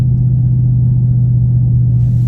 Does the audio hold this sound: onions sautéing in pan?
no